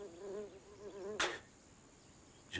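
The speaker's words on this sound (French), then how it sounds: "Je déteste les mouches." Flies buzzing close by, a wavering drone that comes and goes, then two sharp bursts of noise, in an otherwise quiet space.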